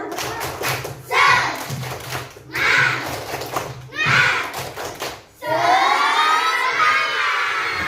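A third-grade class of children performs a rhythmic clapping chant, several loud bursts of group shouting and clapping separated by short pauses, with a teacher's voice in between.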